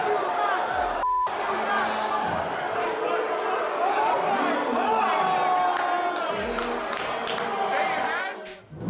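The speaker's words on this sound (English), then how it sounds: "Cardona won the GCW World Championship, which caused a near riot from the crowd" A wrestling crowd at a GCW show erupts into a near riot after Cardona wins the world title, a dense roar of shouting, whooping and chatter that stays loud and close, with a brief dropout near the end.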